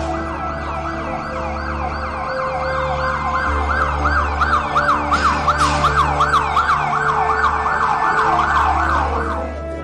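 An ambulance siren wails in fast, repeated rising and falling cycles near a football ground just after a match. It is loud and continuous over a low engine rumble.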